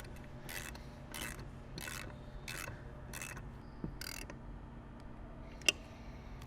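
Ratchet wrench tightening a 9/16 nut on a MotorGuide Tour Series trolling motor mount, six short clicking ratchet bursts in a steady rhythm, close and fairly quiet, followed by a faint metallic clink.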